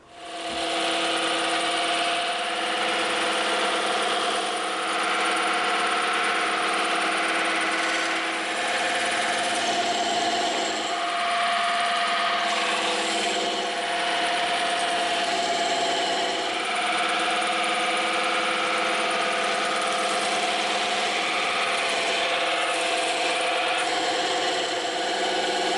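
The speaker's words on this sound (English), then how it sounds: "Now we're gonna go over to the scroll saw and the bandsaw to cut this out" A scroll saw and a bandsaw cut through EVA foam with a continuous, dense, buzzing whir that stays loud and steady throughout, with no voices.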